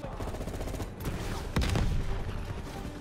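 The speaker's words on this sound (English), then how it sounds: "Are you shooting with the bazooka at my body?" Gunfire in a Vietnam War video game: rapid bursts of automatic fire, then a loud heavy blast near the middle, like a bazooka shot, with more firing after it.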